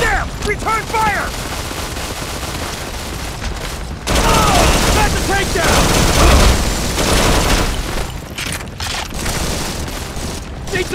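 Dense, continuous gunfire and booms from a battle in the mobile shooter Modern Combat 4: Zero Hour, loud and sustained throughout, with shouted voices and game sound effects mixed in.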